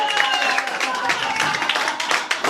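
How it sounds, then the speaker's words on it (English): Audience applause at a stand-up comedy show rises in a dense, close burst of clapping, with a voice speaking over it throughout. "Give it a round of applause right there"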